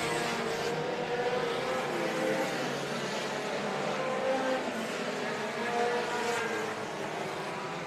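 Sport compact race cars circle a short track in Davenport, Iowa, producing a distant, continuous engine drone that swells and fades slightly as cars pass through lap traffic.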